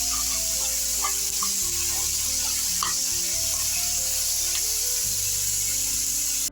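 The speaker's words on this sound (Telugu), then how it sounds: "ఇది కూడా వేయించుకుందాం. ఇది వేయించి చల్లబడ్డ తర్వాత మిక్సీ చేద్దామండి." Tomato and other ingredients for a meal maker masala curry fry in a pan, making a loud, continuous sizzle with occasional stirring scrapes throughout.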